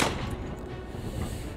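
Lightning strike in the video game RimWorld: a single loud, close crack at the start that rolls into a sustained low rumble and fades over a second or so, with no voices.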